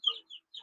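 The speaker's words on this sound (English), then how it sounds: "a bunch of chirping sounds. I have Jamie's old phone" Jamie's old phone plays three short, high electronic chirps in quick succession, crisp and close against silence.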